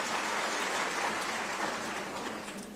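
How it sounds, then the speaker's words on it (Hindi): An audience gives sustained, dense applause for a children's performance at a state International Women's Day function, a steady wash of clapping from start to end with no speech. "इनको भी जोरदार तालियों से इनका स्वागत कीजिए।"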